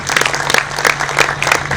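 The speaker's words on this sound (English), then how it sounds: "So you should clap for it." Audience applause at a public consultation on the Sudd wetlands in South Sudan: dense, steady clapping from a crowd, fairly loud throughout with a low hum underneath.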